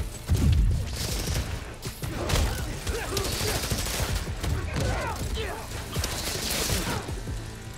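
Enemy gunfire in the Spider-Man Miles Morales video game, sustained rattling shots mixed with mechanical clanks and combat noise, fairly steady throughout at moderate loudness.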